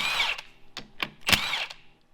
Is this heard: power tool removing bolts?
yes